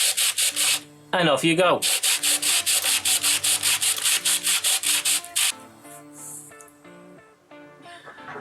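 Rapid rhythmic strokes of sandpaper wrapped around a dowel rubbing back and forth in a wood groove, close and loud, briefly interrupted by a short voice, then slowing and fading.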